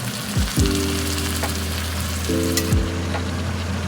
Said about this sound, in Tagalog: Tapos lalagay natin yung pinalambot nating balon-balunan